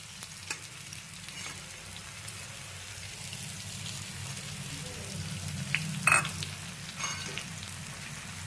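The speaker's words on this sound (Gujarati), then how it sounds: "અને થોડી વાર સોતળશું" Onions and garlic sautéing in a pan for a Punjabi dhaba-style kaju gathiya curry, a steady soft sizzle running throughout with a few brief louder pops near the middle.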